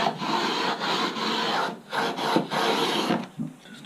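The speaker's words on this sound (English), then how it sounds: "Trusty sander." A sander grinds along the hard Kevlar-carbon edge of a RockBreaker hinge, a close, continuous abrasive hiss broken by a few short pauses.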